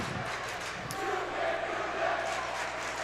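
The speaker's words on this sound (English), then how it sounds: "As the crowd is chanting, you can't do that" A high school basketball crowd at a boys Class B section final, Mechanicville vs Schalmont, chants in a loud, sustained roar filling the gym, with voices and ambient arena noise underneath.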